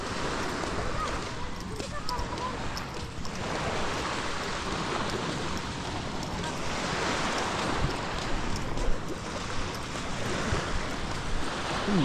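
Calm sea waves wash steadily near the shore where a river mouth meets the sea, a continuous soft surf hiss with some wind, while someone talks over it.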